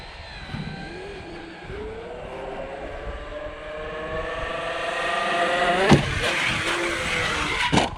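An Arrma Outcast 8S RC truck with a rebuilt rear end drives on pavement, its electric motor whining and rising steadily in pitch as it speeds up, with sharp knocks and clatters near the end.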